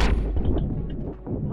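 A sharp blast opens, followed by a decaying rumble and a few softer thuds, a burst of heavy gunfire in the video game Watch Dogs.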